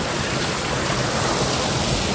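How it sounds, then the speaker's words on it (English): Waterfall pouring into a pond on a private property near Cerne Abbas, a constant, loud, broad rushing roar of falling water with no voices over it. "just here with this lovely waterfall and this great pond"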